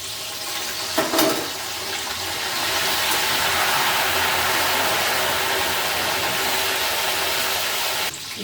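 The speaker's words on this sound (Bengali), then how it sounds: "জলের আওয়াজটা কমে গেছে" Raw green banana chips fry in hot oil during Bengali cooking, a steady, dense sizzling hiss that swells after a couple of seconds and holds, with a few light knocks near the start.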